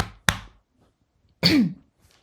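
A person coughing, two sharp separate coughs with a quiet pause between them, close by.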